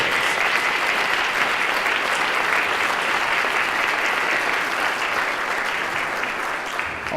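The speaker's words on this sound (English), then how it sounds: "receive a round of applause for your service" Audience at a county State of the County address applauding elected officials, dense sustained clapping that fills the room steadily from start to finish.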